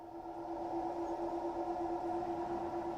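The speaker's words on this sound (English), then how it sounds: "Oh, that's got to be wheel slip." Skyhook BR187 locomotive in Train Sim World 2 suffering wheel slip, a steady high whine with a sustained tonal drone at moderate level.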